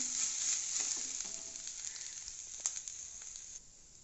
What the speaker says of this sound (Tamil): தேங்காய் வாசம் வர வரைக்கும் வறுத்தாச்சு.